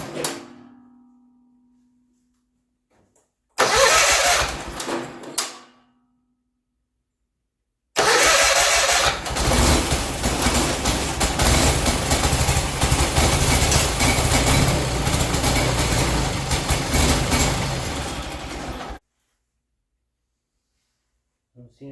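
A tractor engine cranks briefly, then fires and runs loud and steady for about eleven seconds after an earlier short burst, near and continuous before cutting off.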